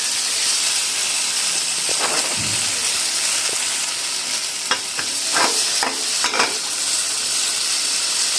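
Chicken cooks dry in a pan with a loud, constant hissing sizzle, broken by several quick stirring scrapes and clacks near the middle and end.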